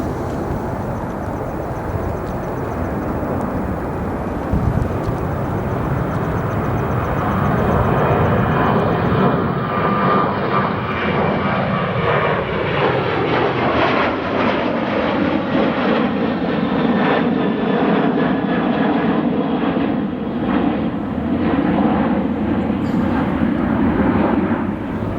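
A fixed-wing airplane departs at night from O'Hare International Airport, its engine roar rising from a steady rumble to a loud, sustained, shifting drone that fills the entire stretch.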